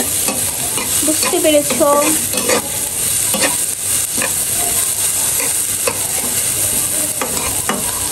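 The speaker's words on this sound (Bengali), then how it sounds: "পেঁয়াজটাকে একটু লাল লাল করে ভেজে নিয়ে তারপর মাছের উপরে দিয়ে দেবো" Onions frying in oil in a pan for a hilsa fish dish, with a loud, continuous crackling sizzle and stirring scrapes throughout. A voice speaks briefly near the start.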